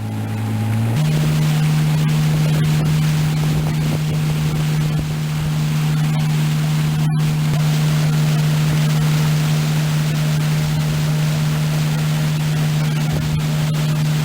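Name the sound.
motorboat engine on a lake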